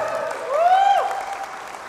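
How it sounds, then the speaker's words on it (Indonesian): Light audience applause at a business seminar in Indonesia, a soft, even wash of clapping with a brief rising whistle-like tone cutting through midway. "Tepuk tangan dulu ada yang meriah buat kita semua."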